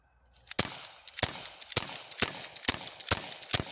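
A gun is fired repeatedly during outdoor target practice, giving about seven sharp, loud shots at a fairly even rhythm of roughly one every half second.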